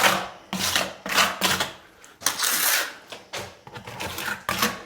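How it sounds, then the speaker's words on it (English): Trowel spreading thinset mortar on a wall and the back of a replacement tile, a series of close scraping and smearing strokes in uneven bursts with short gaps. "We're going to put Thinset on the wall and the tile."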